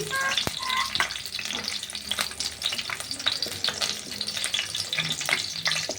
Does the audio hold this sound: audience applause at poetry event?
no